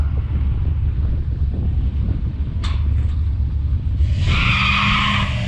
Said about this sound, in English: Uh-oh, squealed off the line.